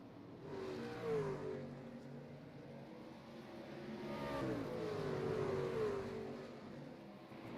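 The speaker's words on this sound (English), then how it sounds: "Let's listen to these trucks at full song." Race trucks in an ORRL Sunday night truck race howl at full throttle on the track, a steady engine drone with two swelling passes that rise and fade, heard from a distance with no talking.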